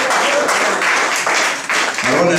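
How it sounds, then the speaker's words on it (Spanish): A church congregation claps during a vigil service, a brief, loud wash of applause with voices mixed in and a speaker's voice cutting through at the end. "Denle un fuerte aplauso"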